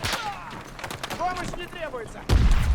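Gunfire in Battlefield 2042 rattles faintly under a talking voice, then a loud, close burst of shots erupts at the end.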